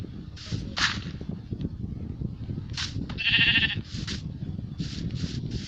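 Sheep in the Minecraft video game bleat several times in short, nasal bursts, one after another over a busy low rumble of in-game background noise.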